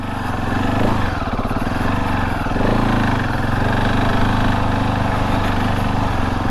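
A KTM 690 Enduro R single-cylinder engine roars steadily and close while the motorcycle rides off-road, the drone holding loud and even with slight surges in pitch throughout.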